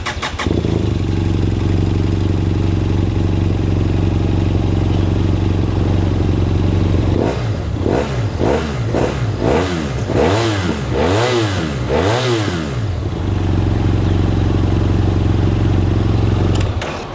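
A 2016 Kawasaki Z1000R or BMW F800R motorcycle idles with a steady throb, then is revved in several sharp, rising bursts before settling back to idle, close and loud.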